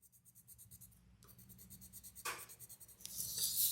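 A pencil shades hard across paper while blending a two-color candy drawing, giving steady rhythmic scratchy strokes, close and clear, with a sharper rasping sweep near the end.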